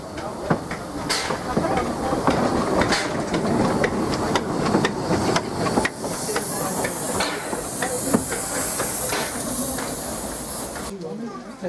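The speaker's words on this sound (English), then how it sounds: "That's the engine that pulled the train here, and now it's moving around the other end of the train" A Vale of Rheidol Railway steam locomotive moves around to the other end of its train, venting repeated bursts of loud hissing steam with sharp chuffs nearby, while voices murmur in the background.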